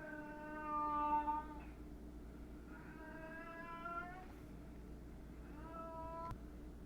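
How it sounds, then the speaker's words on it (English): A cat meows repeatedly with something held in its mouth, three drawn-out, muffled calls close by in a quiet room, each rising and falling, with no talking. "It's my cat. He has something in his mouth."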